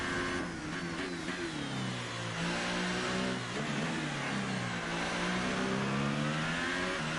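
A car engine revs and drones steadily in a racing video game, its pitch rising and falling through gear changes over several seconds with no talk.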